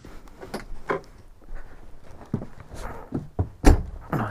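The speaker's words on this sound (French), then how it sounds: "C'est des portes plus légères que sur une 940, c'est fou ça, faut le faire." The lightweight door of a Can-Am Maverick Sport Max 1000R side-by-side shuts with a firm thunk near the end, after soft shuffling and handling noises close by.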